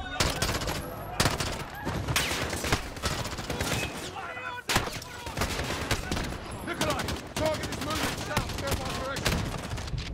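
Dense gunfire in a Modern Warfare battle, with rapid automatic bursts and single shots firing almost continuously and loud and close, mixed with game voices shouting over the fight.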